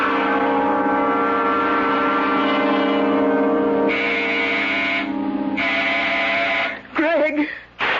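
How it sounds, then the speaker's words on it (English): A door buzzer in an old CBS radio mystery drama drones as a long, steady harmonic tone with a brief break partway through, followed by a short burst of vocal sound near the end. "When Sandy pushes that door buzzer, listen to it carefully, Florence."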